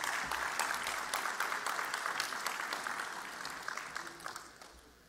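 At an IT awards ceremony, an audience claps for an award winner, a dense round of many hands with sharp individual claps standing out, gradually tapering off over several seconds.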